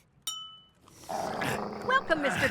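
Cartoon dogs growling and snarling, several rough, close growls building over a second or so, following a short bright chime, with voices speaking around them.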